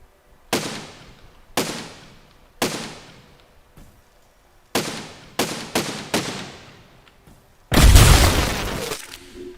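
Weapons in the building game Besiege firing at a building, about nine sharp separate blasts spaced roughly a second apart, then a heavier, longer rumbling impact near the end.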